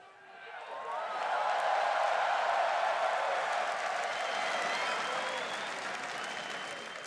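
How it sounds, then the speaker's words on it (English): A large indoor esports crowd at a League of Legends final cheers and applauds in a sustained roar, swelling quickly and holding loud with whistles and shouts throughout. "And everybody cheering you here."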